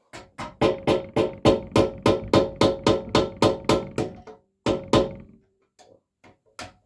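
Metal taps land on a part inside a Dodge Cummins 47RE transmission during a teardown, about a dozen evenly spaced knocks in a quick run, then a short pause, two more knocks and a few faint clicks.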